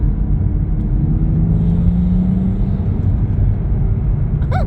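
A 2022 Toyota GR Supra MK5 fitted with a new intake drives along a snowy road at night. Its engine drones steadily and loudly throughout, with a faint rising whine near the end.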